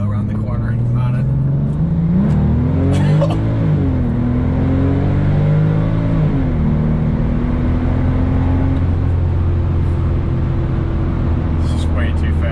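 A 15-year-old Porsche 997 Turbo in regular drive mode accelerates hard around a corner, heard from inside the car. The loud engine drone climbs in pitch, dips as it shifts, then settles into a sustained high hum.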